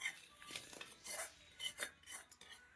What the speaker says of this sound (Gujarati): આને વ્યવસ્થિત રીતે હલાવતું રહેવું પડે.